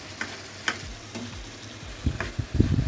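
Chicken curry with spices being stir-fried in a pan, giving a few light spoon scrapes and then a denser burst of close sizzling toward the end.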